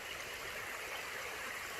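A big creek in West Virginia rushes past in a constant, hissing wash of flowing water, steady and unbroken, with no one talking.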